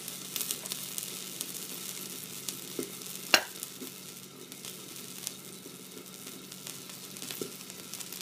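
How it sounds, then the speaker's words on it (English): Hen of the woods mushroom braising in hot oil in a covered pan, a steady soft sizzle with light spattering and one sharp crackling pop near the middle. "Sometimes when you put liquid in a pan with some hot oil, it could spatter a little bit."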